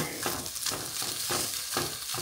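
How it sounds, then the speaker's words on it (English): Turkey bacon strips sizzling in a frying pan, a close, continuous crackling hiss that swells in regular pulses. "I just gotta let this turkey bacon cook till it becomes crispy."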